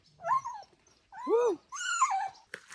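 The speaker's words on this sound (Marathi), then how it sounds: "आपलं डॉगी काहीतरी बोलतंय" Doberman whimpering and whining in a village yard in the Konkan, three drawn-out, rising-and-falling whines with short yips between, close and clear with no talk.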